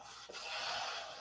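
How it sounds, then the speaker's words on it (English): Sanding a painted aircraft part produces a close, steady scraping rasp lasting about a second, with a brief soft knock early on and no talk. "If you look at this where I'm sanding,"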